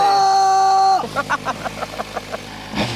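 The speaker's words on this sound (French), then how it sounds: "Fais quelques coups de gaz pour voir." A Japanese motorcycle engine holds a steady high whine, then drops off into a series of quick, evenly spaced throttle blips, close and loud, ending with one more rising surge.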